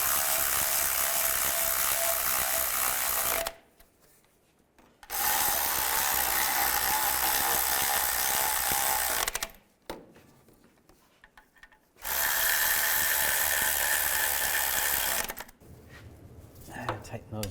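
Rapid ratchet clicking while bolts are tightened on a 2002-2009 Chevy Trailblazer during a timing chain job, three long bursts of dense, close clicking separated by short pauses.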